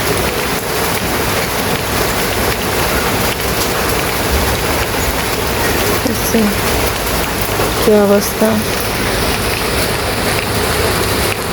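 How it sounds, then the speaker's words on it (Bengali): Steady, dense downpour of heavy rain drumming continuously, with a brief voice surfacing for a moment partway through. "এত বৃষ্টি বৃষ্টির ভিতর বাইরেও যাওয়া যায় না"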